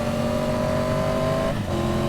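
A Triumph Tiger 850 Sport motorcycle engine drones steadily, then drops in pitch briefly as it shifts gears, continuous and close throughout.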